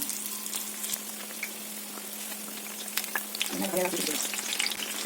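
Chili bajji fritters fry in hot oil with a steady crackling sizzle, close and even, growing a little busier with bubbling near the end as the fritters are turned.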